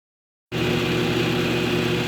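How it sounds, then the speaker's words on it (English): A belt grinder grinding knife bevels kicks in after half a second of silence, then runs at a steady, even whir and hum with no break. "When I'm running the belt grinder like this, I can know to grind to that line."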